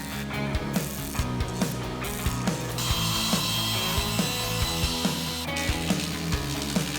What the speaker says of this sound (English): We are using the machine saw to cut them in a precise manner.